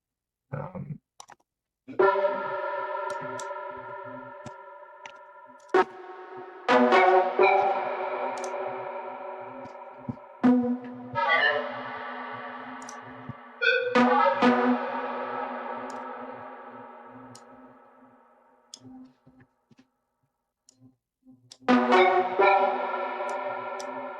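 Layered future garage synthesizer chords in Ableton sound in several long swells, each with a sharp attack and slow decay, separated by brief gaps.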